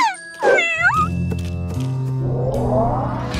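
Cartoon kittens let out a quick burst of high, sliding meows up close, followed by a steady musical backing in an animated children's show.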